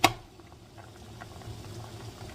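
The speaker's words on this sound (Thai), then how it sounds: "ดี๋ยวรอมันเดือดแป๊บหนึ่งนะคะ" Bamboo shoot curry broth with yanang leaf juice boiling in a pot, a soft steady bubbling after a brief opening knock, close and quiet.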